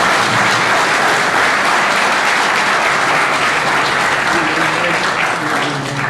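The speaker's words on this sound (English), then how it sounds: "Can we give another round of applause?" An audience at an event at the Elephant Centre Museum bursts into loud, sustained applause after a launch speech, dense clapping continuing steadily throughout with faint crowd murmur.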